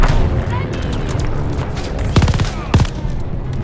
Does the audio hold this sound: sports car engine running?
no